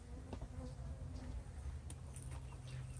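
Honey bees buzz around a flowerpot swarm trap outdoors, a soft, continuous hum with individual insects drifting close and away in brief louder passes, no talking.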